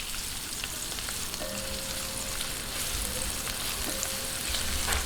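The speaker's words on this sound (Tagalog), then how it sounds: "umpisahan na po natin yung paggigisa" Onion and garlic sauté in a hot pan, a constant close sizzling crackle with a faint tonal hum running underneath, no voices.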